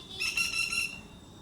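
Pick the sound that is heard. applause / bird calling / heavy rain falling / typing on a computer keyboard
bird calling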